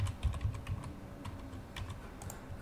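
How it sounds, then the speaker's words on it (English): Quick keystrokes on a computer keyboard as a password is entered into Hikvision IP intercom network settings, a rapid burst of close clicks with an irregular rhythm. "we put in the password here"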